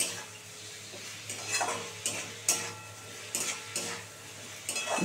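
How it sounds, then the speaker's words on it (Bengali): Spice masala being stirred and sautéed in a pan for an egg poach bati chorchori, a soft sizzle under repeated scraping strokes of a spoon, close and rhythmic, with no talking. "মানে একটু ভালো করে কষাতে হবে।"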